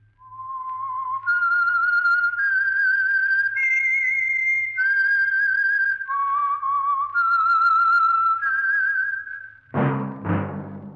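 A clear, close whistled melody of sustained notes stepping up and down, the theme of the 1949 radio drama The Whistler, ending with a sudden burst of orchestral music.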